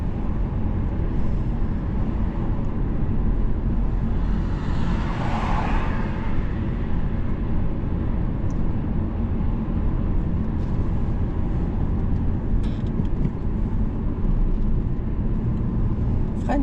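Inside a driving-school car during a lesson as it makes a U-turn, a steady low engine and road rumble runs unbroken and fairly loud throughout, with no voices over it.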